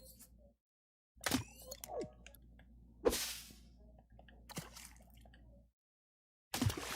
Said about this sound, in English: That's where I want the splash sound.